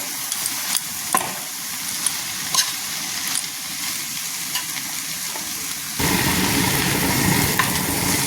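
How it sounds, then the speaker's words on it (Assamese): Mixed leafy greens (lai, spinach, malabar spinach, taro leaves, potato leaves) sizzling steadily in an oiled pan, with periodic scraping clicks of stirring, growing louder and fuller near the end, no talk. "এতিয়া গোটেইখিনি আকৌ এবাৰ ধুনীয়াকৈ লৰাই দিছোঁ।"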